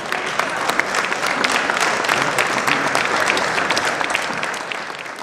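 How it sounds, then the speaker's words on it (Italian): An audience at a Sicilian wine award ceremony at Vinitaly claps in a full, continuous round of applause, dense and fairly close, holding steady for about five seconds. "Prego venire qua a coglierla con un applauso, Francesca Curto."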